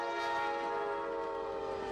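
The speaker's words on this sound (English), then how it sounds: "we see one of the final number 290 trains being led by NS 2561 SD70 by itself" Norfolk Southern SD70 locomotive 2561, running alone at the head of freight train 290, sounds a steady multi-chime horn blast that holds loud and unbroken for about two seconds.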